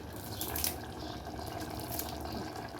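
Steady running water pours into a cooking pot of mutton curry for a few seconds, a close, even splashing rush with no voices.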